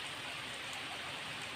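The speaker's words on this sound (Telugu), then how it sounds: "చూడండి వర్షం ఎలా పడుతుందో." Steady rain pours down outdoors during the Bonalu festival, a continuous soft broadband hiss of drops on surfaces with no voices, low in level and unbroken for the whole short stretch.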